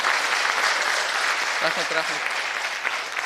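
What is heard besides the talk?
audience applause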